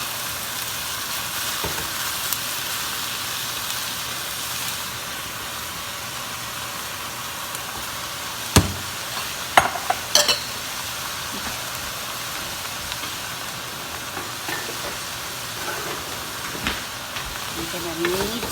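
Vegetables for an egg roll bowl frying in a pan, a steady soft sizzle with occasional clacks and scrapes of spatulas stirring, close and even, without speech.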